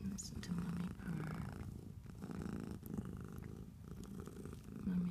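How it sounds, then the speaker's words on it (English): A mother cat nursing her three kittens purrs steadily and softly up close, a low rhythmic rumble that continues without a break. "Listen to mommy purr."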